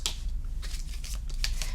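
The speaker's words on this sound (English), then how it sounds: "Let's give it one good shuffle." Tarot cards shuffled during a reading, heard as several quick riffling bursts of papery flutter close by, separated by brief pauses.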